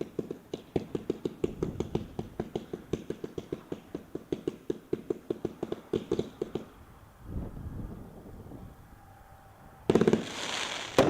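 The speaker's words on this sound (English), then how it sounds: "These are the 1-1 cakes, known as zipper cakes and all about them. They back and forth pretty quick, but this one is Fireworks Carnival." A Fireworks Carnival zipper cake fires as a finale: about six seconds of rapid, evenly spaced crackling shots, then a short lull with soft rumbling, and a final loud burst near the end.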